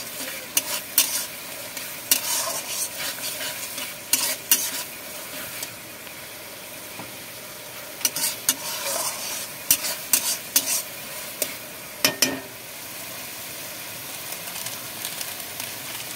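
Paneer dalna being stirred in a pan after sugar is added, with repeated scraping clatters of a spoon against the pan in bursts over a steady low sizzle, close and moderately loud, no talking.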